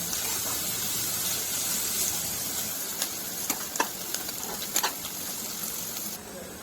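Onion frying in a pan gives a continuous soft sizzle with a handful of light clicks from stirring near the end.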